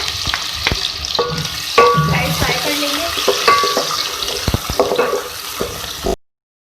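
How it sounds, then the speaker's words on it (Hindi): Onions frying in oil in a pan, a loud close sizzle with stirring clatter and scrapes throughout, ending abruptly. "सबसे पहले ऑयल में हम प्याज ऐड करेंगे, तो फ्राई कर लेंगे"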